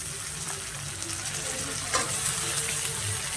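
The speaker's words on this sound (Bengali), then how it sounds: "এই যে আলু কুচি রেখেছিলাম, সেই আলুগুলো এবার দিয়ে দিচ্ছি।" Chopped potatoes go into a hot frying pan in a cabbage and prawn dish, giving a dense, steady sizzle with a brief louder burst partway through and no talking.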